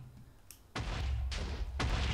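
Fireworks bursting in a video game, three heavy booming blasts in quick succession with rumbling low tails, the first following a faint pop, loud and close.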